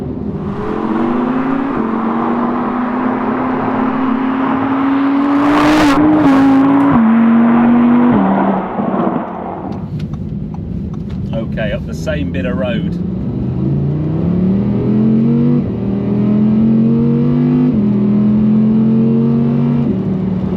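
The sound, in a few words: Audi R8 V10 engine revving while driving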